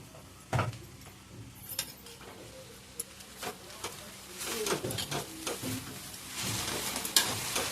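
Vegetable bhujia frying in a pan while being stirred, a low sizzle broken by repeated scraping and clattering strokes that grow busier toward the end.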